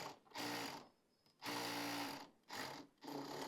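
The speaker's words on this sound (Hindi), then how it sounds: "यहाँ पर सिलाई को लॉक करेंगे और मशीन से फैब्रिक को बाहर निकालेंगे" A sewing machine stitches a winter palazzo pant in three bursts of rapid mechanical whirring, separated by short quiet pauses, close and clear with no voices.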